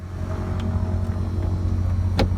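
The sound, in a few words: light aircraft propeller engine starting up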